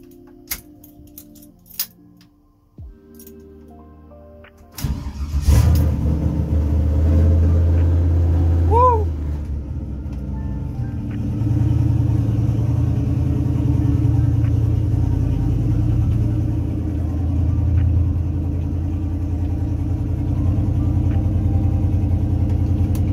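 A Chevrolet C10 pickup in a garage cranks after some clicks and keys jangling, then catches and settles into a loud, steady, rumbling idle that carries on alone.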